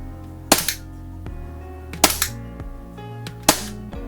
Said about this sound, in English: what I'm going to do is to let off a few BBs